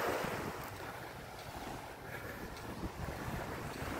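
Small waves wash steadily onto the white-sand shore of a Panglao Island beach in the Philippines, a soft, continuous surf hiss mixed with wind rumble, fairly faint and with no voices.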